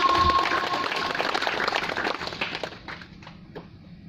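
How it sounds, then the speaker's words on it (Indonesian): A church congregation claps during a sermon, a dense, loud burst of applause that gradually thins and fades over a few seconds. "Tepuk tangan buat Tuhan"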